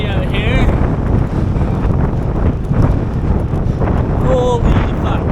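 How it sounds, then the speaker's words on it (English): Strong wind roars and buffets the microphone continuously at a triathlon at Guelph Lakes, loud and close, with brief faint tones poking through. "It's really windy out here."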